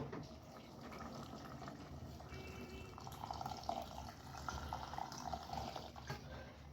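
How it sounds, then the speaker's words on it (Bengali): Water added to a pan of duck curry gravy, a soft continuous pour and trickle with light splashing, fairly quiet and close, with no voices. "জুলের জন্য পানি দিয়ে দিব"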